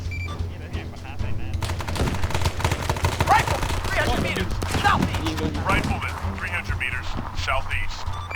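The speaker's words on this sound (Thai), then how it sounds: "ดีแลนฮัลโหลเราโดนยิงหนักมากดีแลนด์" Heavy gunfire in the Arma 3 military game: rapid, irregular bursts of sharp shots and automatic fire crackle loudly over a low rumble, with voices talking amid the shooting.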